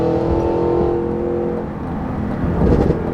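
A Cadillac Escalade V ESV accelerates hard, its exhaust roaring with a deep, steady engine drone that builds into a louder surge near the end, close by and loud, with no talk over it.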